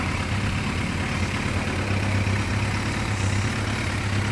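A Kawasaki H2 750SS Mach IV triple fitted with a Triple World Denko chamber exhaust idles steadily, a loud, close, continuous low rumble with no talk over it.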